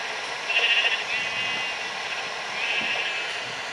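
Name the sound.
sheep bleating in Minecraft Pocket Edition video game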